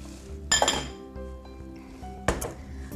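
Fruit mixture of orange, juice and brandy goes into a mixing bowl for a microwaveable Christmas pudding, giving two sharp glassy clinks about two seconds apart, close and clear over a quiet background.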